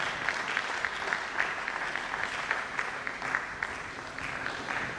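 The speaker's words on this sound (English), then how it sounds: "A round of applause for him once again." An international environmental sciences conference audience applauds a speaker, steady dense clapping sustained at moderate volume throughout, with no talk over it.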